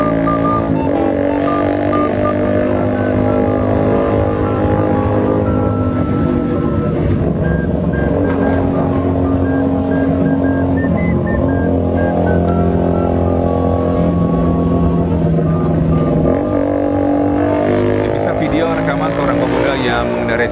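A blue motorcycle rides along the fast lane of Jalan Jenderal Sudirman in Central Jakarta, its engine droning steadily amid dense, continuous city traffic noise for the whole stretch.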